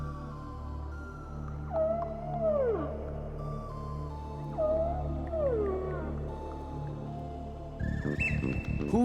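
A whale singing underwater, heard as long, loud, sweeping moans that bend downward in pitch, repeated twice over a low rumbling background, followed by a brief burst of higher tonal calls at the end.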